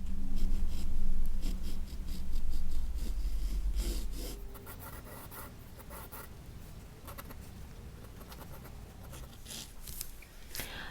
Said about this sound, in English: I'm going to mark all the major areas that I might need, you know, and pencil lines